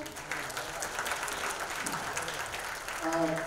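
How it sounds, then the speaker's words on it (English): Applause from an audience at a press conference for a Caprese handbag collection launch, a steady wash of clapping that stays fairly faint and muffled, with a voice entering near the end. "Can we have a round of applause for Sudeep here?"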